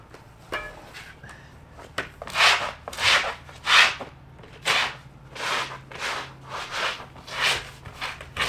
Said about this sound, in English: This is sandpaper, comes with the kit.